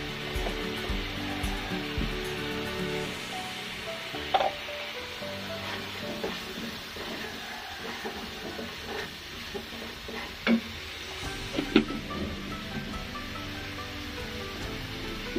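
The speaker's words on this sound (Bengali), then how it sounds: "এবার মশলাগুলো ভালোভাবে কষিয়ে নেব" Spices for a rohu fish curry sizzle and fry in a pan, with a continuous close hiss broken by occasional scraping stirs and small pops.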